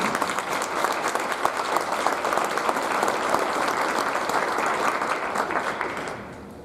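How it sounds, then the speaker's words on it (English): An audience at a high school National Honor Society induction ceremony gives a sustained round of applause, a dense, loud wash of many hands clapping that fades near the end. "would you please give them a round of applause for organizing?"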